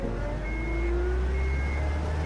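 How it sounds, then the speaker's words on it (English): A truck engine in a Metal Gear video game starts and settles into a steady, loud, low idling drone that holds throughout. "Crap, they started the engine."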